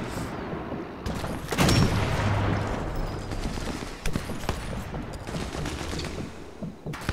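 Gunfire in Sniper Elite 4 on San Celini Island, a dense burst of rapid shots and booms, loud and close, followed by scattered sharper individual shots against a constant rumble.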